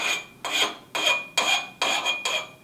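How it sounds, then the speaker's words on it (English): A metal axle edge is chamfered with a hand file: six crisp rasping strokes at an even, unhurried rhythm, each a bright scraping swell, close and clear with no talk. "in order to file the axle, I'm going to come over here, and you just lightly want to take this edge off of here"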